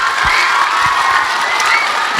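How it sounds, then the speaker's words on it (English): Students at a film festival Q&A with the Encanto directors cheer and applaud as a loud, dense crowd, shouts rising over steady clapping for the full stretch. "Give you guys a round of applause."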